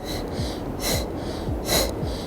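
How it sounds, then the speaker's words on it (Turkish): Deep rhythmic breathing during a glute exercise workout, with several audible inhale and exhale bursts about every half second to second, close to the mic. "Nefes al, nefes ver, devam."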